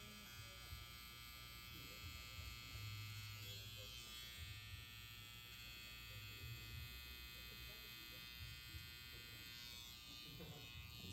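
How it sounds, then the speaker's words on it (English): Electric hair trimmers buzzing steadily while softening lines on the sides of a low skin fade combover haircut, a faint continuous whine with no pauses and no talk. "I'm going to use the trimmers just to soften up any lines that I might have made initially."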